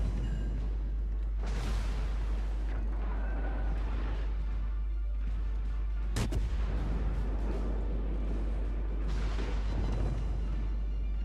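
Warship broadside gunfire in the naval combat game World of Warships: several deep booming salvos roll out across the span, with one sharp, loud blast standing out partway through.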